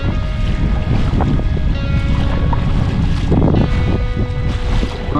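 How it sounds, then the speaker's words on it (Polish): Strong wind and waves batter a sea kayak off Orebić, Croatia, in a loud, continuous roar of gusting wind buffeting the microphone with sloshing water underneath. "No i walczymy z wiatrem i falami."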